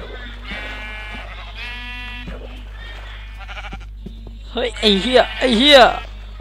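Several sheep bleats in the Minecraft video game, loudest near the end as a cluster of wavering, bleating calls over a steady low game hum, with people talking before them.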